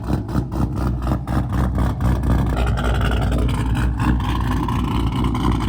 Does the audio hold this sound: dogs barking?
no